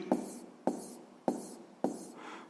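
Pen strokes mark down a math calculation on paper, four sharp evenly spaced scratches each trailing off briefly, close and clear with no talk.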